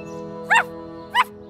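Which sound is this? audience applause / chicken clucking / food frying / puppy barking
puppy barking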